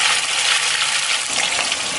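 Tomatoes and chilies for sambal hit hot oil in a pan, giving a steady, dense sizzle and hiss close by that stays even and loud for the whole stretch, with no voices.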